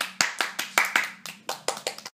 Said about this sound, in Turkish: Alkışlar bunlar için geliyor